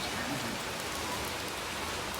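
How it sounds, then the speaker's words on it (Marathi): Steady rain falls outside on a cloudy day in Lonavala, an even, close hiss of drops hitting surfaces that continues without pause. "आता बाहेर पाऊस पडतो आहे."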